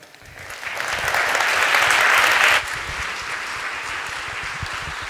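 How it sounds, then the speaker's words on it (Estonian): Audience applause at the end of a talk at the Tallinn University of Technology annual seminar, dense clapping that rises, holds strong for a couple of seconds, then drops abruptly to a quieter, thinning patter. "Suur-suur aplaus Hendrikule"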